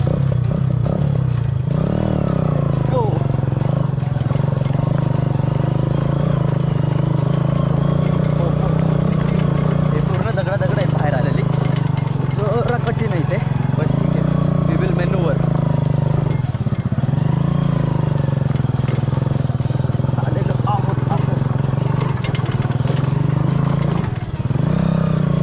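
An off-road vehicle's engine runs loud and steady on an uphill trail near Lonavala, with a rough, rattling drone that swells at times and never drops out.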